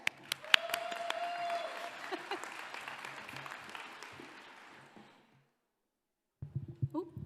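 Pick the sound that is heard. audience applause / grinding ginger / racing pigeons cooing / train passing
audience applause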